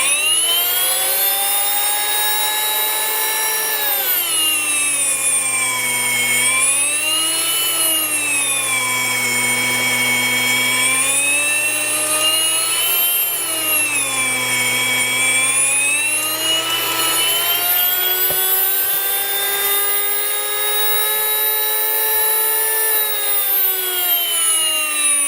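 A WonderMill electric grain mill grinds millet with a loud, continuous high-pitched whine whose pitch dips and rises several times as the grain feeds through, running steadily throughout with no talking.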